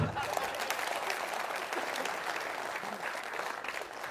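Loud, sustained applause from a seminar audience, dense clapping that fills the whole stretch without a break.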